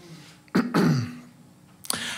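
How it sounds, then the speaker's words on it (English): Two throat clearings, at an open-mic poetry event, the first a sharp double burst and the second a brief rasp near the end, close and fairly loud. "I'm clearing my throat a lot."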